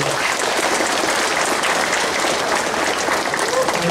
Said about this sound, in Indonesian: Boleh berikan tepuk tangan kepada petugas kali ini.